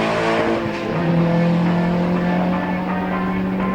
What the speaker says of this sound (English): The car absolutely hooting much earlier on in the track.